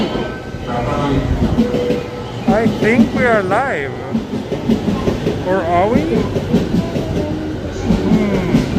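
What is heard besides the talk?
local train arriving at Shinjuku Station, Tokyo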